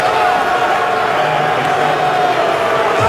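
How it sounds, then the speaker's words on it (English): Broad, steady roar of a stadium crowd at a New York Jets football game against the New England Patriots, a sustained wash of booing and jeering with faint voices mixed through it. "And the crowd, well, they're booing everything right now."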